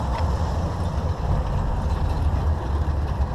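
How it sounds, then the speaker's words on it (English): Steady low exhaust rumble from the muffler of an RC vehicle's engine runs loud and continuous with no break and no talk. "So all the sound just kind of comes out of the muffler."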